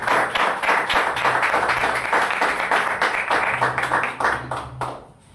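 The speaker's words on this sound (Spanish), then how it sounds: "Palmas para el Señor." A church congregation claps their hands together in a steady, rhythmic beat for several seconds, the sound loud and close, before it thins and stops near the end.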